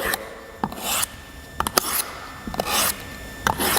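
Knife blade drawn across a sharpener in repeated strokes, four rasping scrapes evenly spaced, each ending in a short metallic tick, loud and close.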